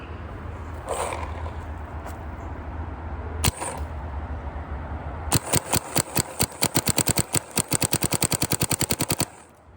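A G6R paintball marker is switched on and fires a rapid string of sharp, evenly spaced shots close by, after a few seconds of low mechanical hum and isolated clicks.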